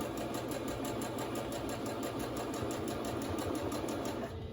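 A sewing machine back stitches a fabric face mask, its motor and needle making a steady, fast mechanical whir with rapid rhythmic ticking, close and moderately quiet, running without pause until a slight drop at the very end.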